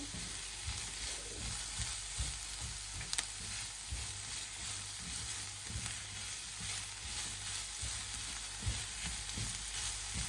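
Onions frying in a pan for mutton sukka, a continuous soft sizzle with irregular stirring scrapes, moderately quiet and without talk.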